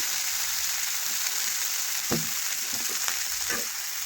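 Red chilli powder and vegetable masala sizzle in a pan for a vegetarian soybean dish, with a steady broadband frying hiss throughout and a few soft spoon scrapes and stirring clicks near the end, no voices.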